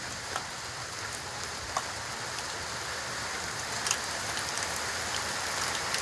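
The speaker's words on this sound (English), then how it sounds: "There's a heavier rain. I hear it now." Heavy rain pours steadily during a storm, a dense, constant hiss of drops striking surfaces with a few brief louder spatters, with no talking.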